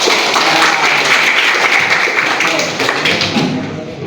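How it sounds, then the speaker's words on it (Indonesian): A seventh-grade class claps hands together in a classroom, a loud, dense burst of many hands sustained for about four seconds and tapering slightly at the end. "Tepuk tangannya."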